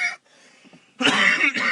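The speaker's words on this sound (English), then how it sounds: "just coughing through the..." Loud, harsh coughing from a person who has just smoked, a short burst at the start, a quiet gap, then a longer run of rough coughs close to the mic.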